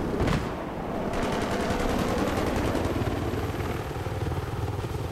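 Rapid automatic gunfire from Battlefield 3, dense sustained bursts of shots with a sharp opening crack, loud and close throughout with engine-like rumble beneath.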